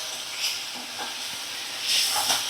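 Onions fry in a small amount of oil with a soft, steady sizzle, and a few louder hissing swells come as they are stirred. It is close by with no talking.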